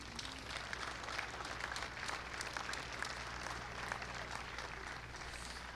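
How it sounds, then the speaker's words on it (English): A crowd at a swimming event's opening ceremony applauds in a steady, even wash of clapping, heard faintly and at a distance throughout. "So let's give everybody a big round of applause"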